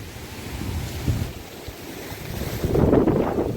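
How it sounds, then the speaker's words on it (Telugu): Strong gusty wind roars across a banana plantation under an overcast late-afternoon sky, a steady rushing buffet that swells louder near the end, with no one talking. "చాలా గాలి వేస్తుంది"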